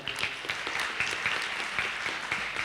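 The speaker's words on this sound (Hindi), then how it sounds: "जितने आर्टिस्ट हैं, स्पीकर्स हैं, उनके लिए हम लोग अगर ताली बजा दे" An audience applauds the artists and speakers at a band performance, a continuous soft spread of many hands clapping at a moderate distance.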